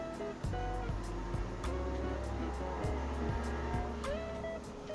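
A Mercedes-Benz W210 E260 sedan accelerates from inside the cabin, its engine droning steadily with a shifting tone as it pulls through the gears.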